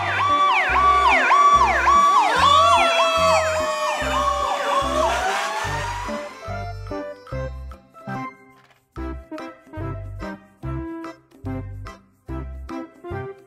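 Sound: fire truck siren

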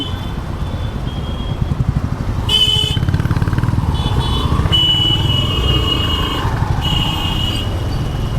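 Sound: 110cc motorcycle riding

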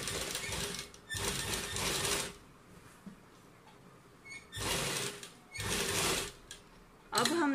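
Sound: sewing machine stitching lace on a Punjabi suit

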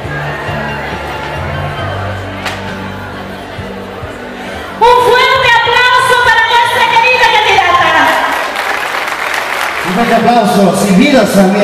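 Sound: applause at a pageant

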